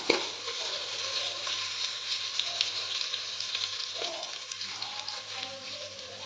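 Onion fries in hot oil in a pan, giving a continuous bright sizzle with small crackles throughout, close and fairly even in level.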